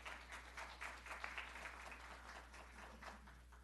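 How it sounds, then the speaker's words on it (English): Faint, distant applause from an audience at a city council meeting, a soft steady patter over a constant low electrical hum. "I'm going to ask that you refrain from applauding"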